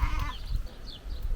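A billy goat in the Hérault countryside gives a short, faint bleat, heard alone over quiet outdoor background.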